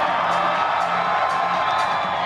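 A crowd at the 2017 Bouldering Open National Championship final cheers and whoops in a sustained, loud wash of noise, with scattered shouts rising above it.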